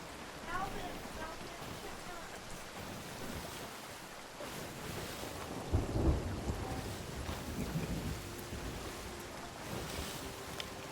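Rain and thunder from the pirate game Sea of Thieves, with steady rainfall hiss, a low thunder rumble building near the middle and sea sounds beneath, fairly faint throughout.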